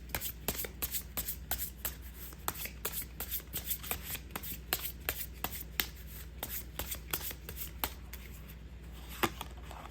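Dice are shaken in a quick, irregular clatter of hard clicks that runs without pause for about ten seconds, quiet and close.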